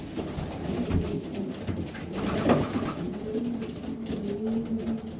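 A racing pigeon hen, a 500-mile distance bird, coos softly in a loft, her low repeated calls steady and close over faint background rustling.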